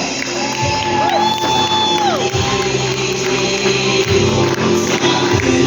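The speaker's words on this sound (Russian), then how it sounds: "Ваши аплодисменты, друзья! Не жалейте свои ладошки!" A crowd at a stage event whoops, shouts and cheers loudly and continuously, with applause under the voices and music playing behind.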